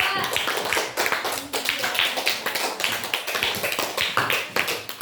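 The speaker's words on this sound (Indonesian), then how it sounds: "tepuk tangan untuk kelompok 2" Classroom clapping for a student group during a teaching session, loud, steady rapid claps from many hands continuing throughout without pause.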